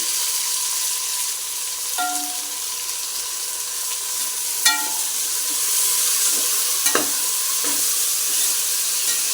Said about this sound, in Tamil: அப்படியே நல்லா கிளறி விட்டுலாம்